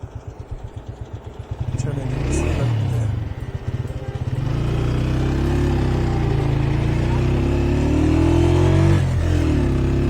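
A motorcycle cruising along a smooth, clean mountain road between Kaghan and Naran, its engine droning steadily and loudly up close with wind noise, under someone talking throughout.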